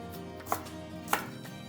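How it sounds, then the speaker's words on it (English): Two crisp knife strokes through zucchini land on a cutting board about half a second apart, each a sharp close thunk over quiet kitchen background. "Cut the zucchini."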